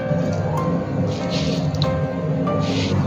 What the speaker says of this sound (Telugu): ఈ అటుకుల్లో వాటర్ లేకోకుండా గట్టిగా పిండేసి మిక్సీ జార్లోకి యాడ్ చేసుకోండి